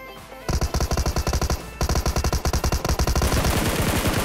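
Automatic rifle fire in PUBG Mobile, a loud, steady string of rapid shots broken by a brief pause, then resuming and blurring into a dense continuous burst toward the end.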